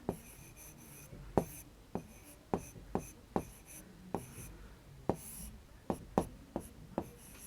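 Writing on a board: a series of sharp taps and short scratchy strokes in an irregular rhythm, about a dozen distinct marks, close and fairly quiet, with a voice talking faintly in between.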